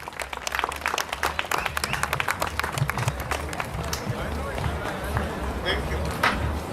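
An audience at a Goan festival applauds, a steady stretch of many hands clapping at moderate volume with a faint crowd murmur beneath it.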